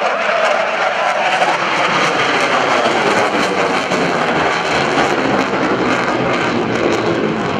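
An F/A-18C Hornet jet flies a pitch rate demonstration at an airshow, its engine roar loud, broad and continuous throughout.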